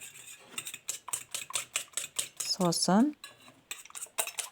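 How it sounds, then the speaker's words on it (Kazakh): Two eggs are beaten in a bowl with a utensil for crepe batter. The quick, rhythmic clinks and taps against the bowl are close and distinct, and they stop briefly for a short spoken word. "2 жұмыртқаны араластырамыз жақсылап"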